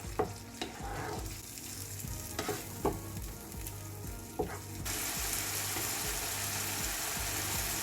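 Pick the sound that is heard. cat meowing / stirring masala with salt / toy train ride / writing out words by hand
stirring masala with salt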